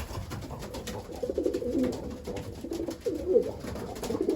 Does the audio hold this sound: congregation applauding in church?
no